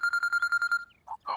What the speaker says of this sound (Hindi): अपू का फोन आ रहा है।